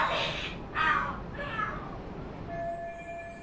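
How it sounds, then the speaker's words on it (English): Cats fighting and screaming in the video game Lost Judgment: three shrill yowling bursts in quick succession over a steady hum, with a thin electronic tone coming in at the end. "The hell? Are there cats fighting?"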